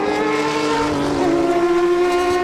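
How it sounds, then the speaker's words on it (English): A Ford Capri historic touring car wails past with a loud, steady engine howl, its pitch sliding slightly lower as it moves away from the near side of the circuit. "the wailing sound of the Capri goes behind us, up towards Surtees now"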